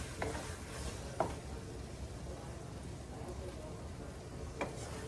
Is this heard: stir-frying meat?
yes